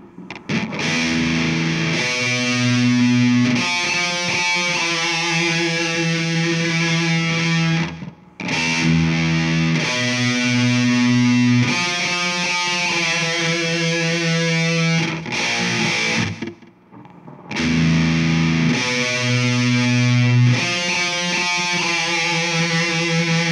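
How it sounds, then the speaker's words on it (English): Heavily distorted music, gritty and buzzing, plays in loud sustained phrases that cut off in two short gaps of silence before starting again. "So here it is with distortion."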